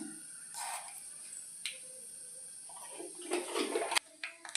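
Ajwain seeds fry in hot oil in a pan, giving a steady soft sizzling hiss with brief bursts of crackle that swell louder near the end, with no talking.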